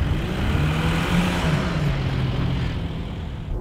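A Porsche Cayenne Diesel SUV drives off-road, its engine a steady near rumble with a rising and falling tone as the revs shift, over rough broadband road and tyre noise.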